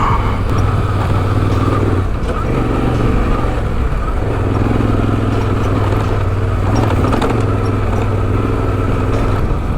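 Motorcycle riding a sandy backcountry trail section on the Oregon Backcountry Discovery Route, a loud, steady engine drone with wind rumble and slight revving swells throughout, no talk.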